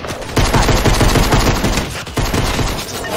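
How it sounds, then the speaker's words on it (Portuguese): Rapid bursts of automatic gunfire in a Minecraft-style survival video game, loud and dense with repeated shots over about three seconds, no talk. "Da onde que tá vindo esse tiro?"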